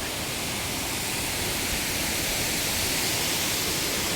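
Steady roar of a waterfall at Salango Temple Park in Malaysia, a broad continuous rush of falling water filling the whole clip without pause, loud and close, with no voices.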